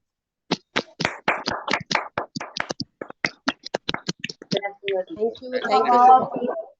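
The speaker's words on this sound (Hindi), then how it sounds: "जोरदार तालियां आप दोनों के लिए" Sparse claps ring out one after another at an online business award event, growing into a denser burst mixed with voices toward the end.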